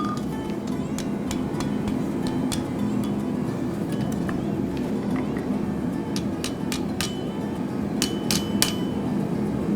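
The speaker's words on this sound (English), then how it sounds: "Again, the wooden hammer." A wooden hammer strikes repeatedly in a workshop studio, sharp irregular knocks ringing out over a low steady background hum.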